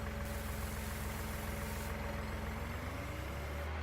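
Massey Ferguson tractor engine idling in the Farming Simulator 19 video game, a steady low diesel rumble that holds constant and close throughout, with no talk over it.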